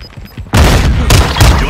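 Semtex grenade blast and gunfire in a first-person shooter video game: a sudden loud boom followed by rapid, dense bursts of shooting, close and harsh.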